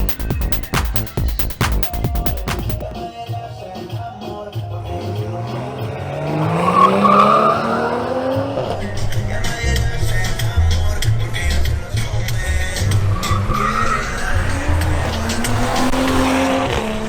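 A BMW M240i xDrive launches at a drag race, its engine climbing hard through rising revs with a tire squeal and a gear change, loud and close after a burst of crackling at the start.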